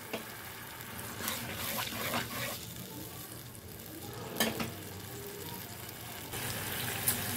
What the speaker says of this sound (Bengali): গ্রেভিটা আবার ফুটে উঠেছে দেখুন।